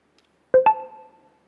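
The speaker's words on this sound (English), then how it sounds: "The ringtones." An OPPO ColorOS 7 smartphone ringtone plays two bright chime notes in quick succession, the second ringing out and fading gently over about a second, clear and alone against silence.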